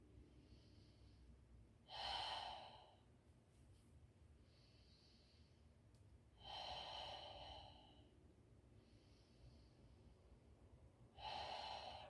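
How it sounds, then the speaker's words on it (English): Deep yoga breaths taken outdoors on a front porch, three slow, loud exhalations spaced about four seconds apart over quiet background hiss, each a breathy rush with no talking. "breathing into my open chest"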